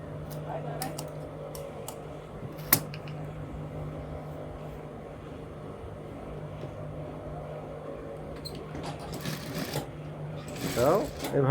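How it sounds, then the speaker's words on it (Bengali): Sewing machine stitching together the front and back pieces of a shirt in a tailor's workshop, a low steady mechanical hum with brief clicks and handling noise, while a person talks quietly over it. "এটাও এভাবেই, এটাও সেলাই দিয়ে দিলাম।"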